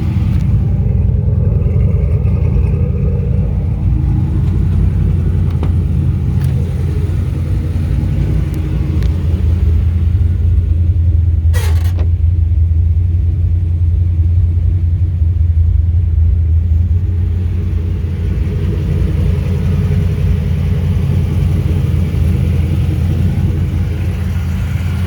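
A 1987 Pontiac Trans Am with a built Pontiac 400 V8 and big headers idles loudly and steadily, a deep lumpy rumble that runs unbroken throughout with a brief sharp click partway through.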